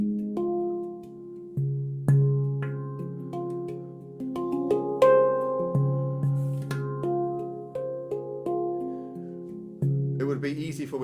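Someone plays a handpan, a steel instrument struck by hand, giving a slow sequence of ringing, bell-like metallic tones that sustain and overlap, close and clear, with a faint voice near the end.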